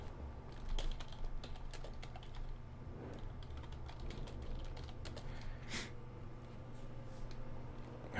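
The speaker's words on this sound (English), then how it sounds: "Wow, my typing." Rapid clatter of keys typed on a computer keyboard, an uneven stream of light close taps over a low steady hum, without speech.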